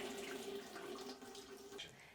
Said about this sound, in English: Next, turn on the taps and drain the water.